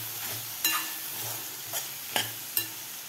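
A spoon scrapes sharply against the pan four or five times as garam masala and spices are mixed into palak dal khichdi, each stroke a distinct clack over a soft background sizzle.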